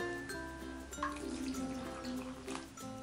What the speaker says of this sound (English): and 1 cup of water